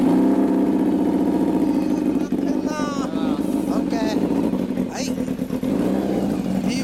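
A 2005 Kawasaki Zephyr χ motorcycle fitted with a Yoshiken muffler idles and revs nearby, its steady mid-range engine rumble rising in short blips, with people talking over it.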